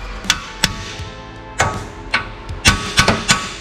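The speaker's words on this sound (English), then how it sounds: "We'll smack the ear of the spindle and that will drop out." A hammer strikes the ear of a rusted car steering spindle on a Fox Body Mustang to knock it free, sharp metallic smacks in an irregular series, about ten blows, close and loud in a workshop.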